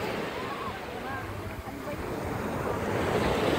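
Sea waves wash onto a clean shore, a soft continuous roar mixed with wind buffeting the microphone, steady and moderately quiet throughout.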